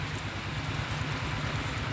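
Rain falls steadily outdoors, a dense even patter of drops with a low rumbling undertone and no voices.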